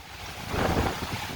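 Hurricane Ida wind gusts of 65 to 70 mph in Houma, sweeping off a roof and through a breezeway, roar as a loud, broadband rush that swells in the middle, with no voices.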